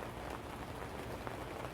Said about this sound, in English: Some more rain tonight.